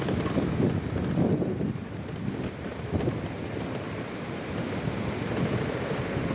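A river swollen by heavy rain in Dehradun rushes in a loud, continuous broadband roar with surging swells and gusty wind buffeting the microphone.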